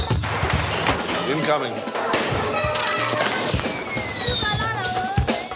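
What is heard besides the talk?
kids setting off fireworks in the Medina, Libya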